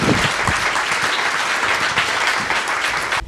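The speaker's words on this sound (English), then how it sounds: "Join me in a round of applause." An audience applauding at the close of a climate disinformation panel discussion, a steady, dense wash of clapping from a room full of people, with faint voices mixed in.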